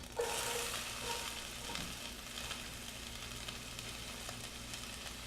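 Onions sizzle loudly and steadily in a pan for a turkey stir fry, with a bright continuous hiss and occasional light stirring scrapes throughout; nobody speaks.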